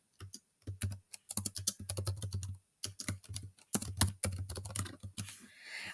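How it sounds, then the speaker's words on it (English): Rapid clattering keystrokes on a computer keyboard come in quick bursts with short pauses, close and crisp, with no voices. "write them a message."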